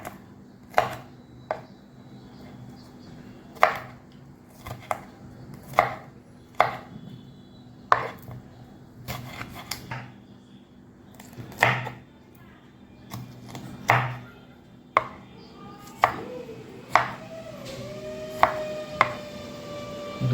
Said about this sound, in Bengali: দিয়ে এইভাবে কেটে নেবো টুকরো টুকরো করে